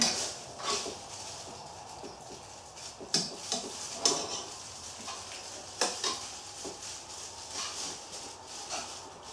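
Parmesan cheese being stirred into a piccata sauce in a pan, with a soft, steady sizzle broken by scattered scraping and clinks of the utensil against the pan. No one speaks.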